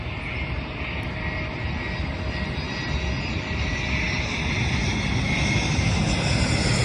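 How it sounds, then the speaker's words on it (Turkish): A steady, loud roar of an airliner's engines slowly swells as the plane approaches to land at a busy airport, with a faint high whine over the rumble. "Arkadan diğer uçağın geldiğini duyuyorum ben."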